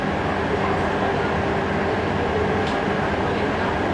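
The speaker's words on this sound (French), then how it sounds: "Je passerai mes journées à voyager dans les RER." An RER commuter train in motion, a steady loud rumble and rolling roar inside the carriage, continuous and unbroken with no one speaking.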